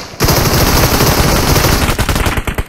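Rapid automatic gunfire from a video game battle royale match, a loud, dense burst of shots lasting over two seconds, breaking into a few separate cracks at the end, with no talk.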